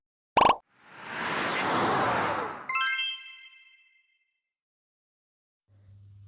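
A short bright notification bell ding opens, then a swelling whoosh rises and fades into a shimmering chime that rings out and decays. A faint low hum enters near the end.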